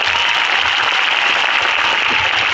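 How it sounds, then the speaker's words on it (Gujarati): Crowd clapping at a political rally, a loud, continuous wash of applause held steady throughout. "સંઘર્ષશીલ એવા આનંદભાઈ પટેલ સાહેબ માટે જોરદાર તાળીઓ પાડે।"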